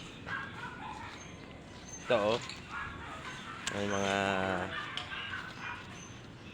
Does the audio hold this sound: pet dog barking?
yes